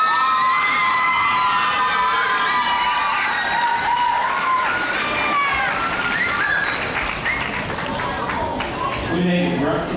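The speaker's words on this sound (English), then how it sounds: "give all of these performers, whether they be here or not, a great round of applause for their dedication" A crowd at a Pleasanton, California church stake roadshow in May 2002 cheers for the performers, with loud, sustained whoops and children shouting over a dense, continuous roar.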